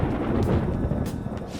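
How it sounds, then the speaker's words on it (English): Thunder in the video game Persona 5 Royal, a loud, deep, continuous rumble rolling on with faint rain-like hiss above it and no talk. "It sounds like it's going to rain."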